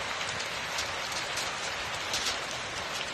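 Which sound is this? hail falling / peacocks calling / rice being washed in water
hail falling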